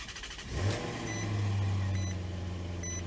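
A 2007 Maserati Quattroporte GranSport V8 cranks and fires, a brief starter whir bursting into a loud rev that settles into a steady, deep idle, with faint chimes from the dashboard.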